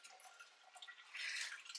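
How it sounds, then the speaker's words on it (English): Liquid drains through a strainer while small chunks are caught, giving faint, steady trickling and dripping that grows a little fuller near the end, with no talking. "It just takes a while to drain because I'm getting all of those little chunks out."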